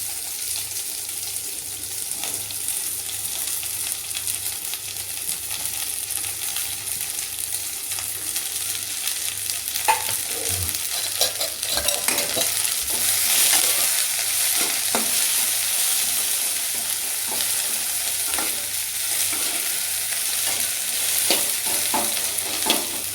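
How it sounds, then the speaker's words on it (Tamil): Okra, curry leaves and cumin fry in hot oil in a pan with a loud, continuous sizzle, punctuated by light stirring scrapes. "போடுங்கன்னே கருவேப்பிலை, அப்படியே வெண்டைக்காயை போட்டுருவோம்"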